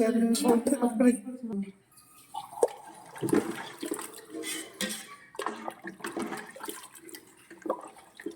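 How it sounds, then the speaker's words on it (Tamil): Water pours and splashes into a pot of mutton curry in a steady stream, with voices talking over it. "இன்னும் தண்ணி ஊற்றுவோம்"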